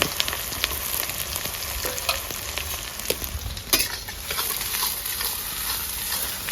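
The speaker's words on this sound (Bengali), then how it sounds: "পেঁয়াজটাকে ভাজবো হালকা ব্রাউন কালার চলে এলেই, তখন আমার পেঁয়াজ ভাজা হয়ে যাবে" Chopped onions sizzle steadily in oil in a pot for a malai chicken handi, a continuous close frying hiss broken by occasional scrapes and clicks of stirring, with no talking.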